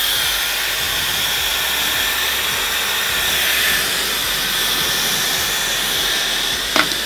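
A Dyson Airwrap dries curly hair with a continuous, close, whooshing airflow hiss that holds steady throughout, broken only by a brief click near the end.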